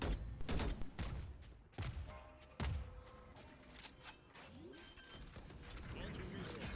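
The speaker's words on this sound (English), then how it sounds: "Launching missile." A missile launching in a video game, a loud burst of firing and mechanical clatter with sharp blasts up front, tapering into rumbling activity while a voice talks faintly.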